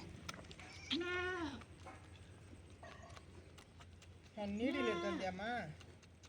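Goats and young kids bleating at a farm, two clear wavering bleats a few seconds apart, the second longer and layered as several animals call together, with faint background noise between.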